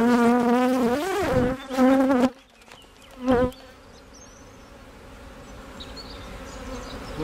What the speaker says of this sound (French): les abeilles ont construit elles-mêmes